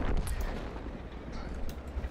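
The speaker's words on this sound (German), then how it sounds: "Das war schon mal ein schöner Schuss." Tank cannon shot in the World of Tanks video game, a deep low rumbling blast that sustains as a dense boom for about two seconds, loud and close with no talk over it.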